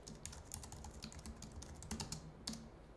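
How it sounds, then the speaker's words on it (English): Someone types quickly on a computer keyboard while coding in Python, a faint, continuous patter of light key clicks with no talking. "let me continue typing here"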